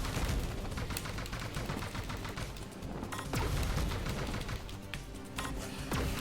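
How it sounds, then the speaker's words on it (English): Rapid game gunfire from Panzer Dragoon on the Sega Saturn as the player locks on and shoots at enemies, dense bursts of shots and impacts repeating steadily throughout with no talk. "Lock on and then shoot them."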